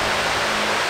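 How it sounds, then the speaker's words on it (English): Shop fans blow in a car workshop, a loud, steady, close broadband whoosh that fills the whole moment without change. "Fans going."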